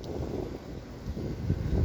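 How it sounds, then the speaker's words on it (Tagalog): Steady wind buffets the microphone with a low, rumbling roar that surges and fades, loud and continuous with no voices. "lakas na hangin."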